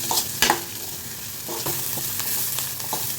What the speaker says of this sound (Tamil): வெங்காயத்தை நல்லா வதக்கி விட்டுக்கோங்க.